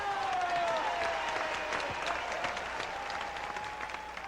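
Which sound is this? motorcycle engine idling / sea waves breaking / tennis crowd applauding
tennis crowd applauding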